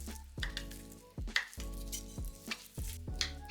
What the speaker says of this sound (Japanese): 5ミリ幅くらいに切ったり、一つみじん切りにしました。